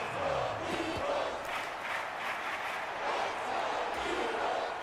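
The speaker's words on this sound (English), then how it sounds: "Well, this crowd into it now." A stadium crowd in the American football video game Madden NFL 25 roars in a broad, continuous swell of cheering and shouting, steady and fairly distant, with no clear commentary over it.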